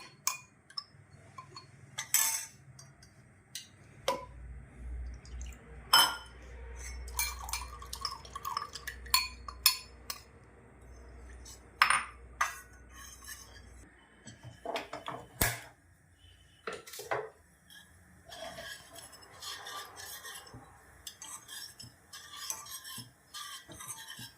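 Ragi powder mixed with water is stirred as it cooks in a saucepan, with scattered scraping and tapping of a spoon against the pan and occasional clinks, fairly quiet and close, with gaps between strokes.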